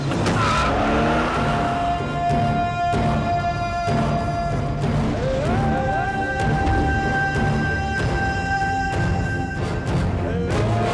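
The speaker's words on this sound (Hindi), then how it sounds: "गाड़ी आगे बढ़ा।" A car pulls away in a Hindi-dubbed South Indian action film scene, its engine revving loudly with rising tonal whines and tire squeal, held steady and close for the full length with no talking.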